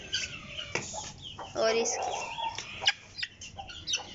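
Aseel chickens, including a black one, cluck and cackle nearby in a backyard pet setting, with soft intermittent calls while someone speaks Hindi-Urdu over them.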